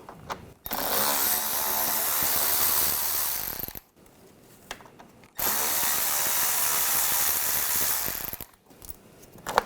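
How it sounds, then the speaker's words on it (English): A T25 socket on a power tool backs out two screws during a front lower control arm job on a 2004-2009 Audi A4 Quattro, giving two long, loud buzzing runs separated by a short pause, with a quick final rattle. "Using a T25 socket, take these two screws out."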